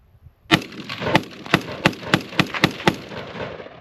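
A GAU-5 rifle fitted with a Super Selektor fires semi-automatic, about seven sharp, loud shots at a steady, slightly uneven pace with no talking.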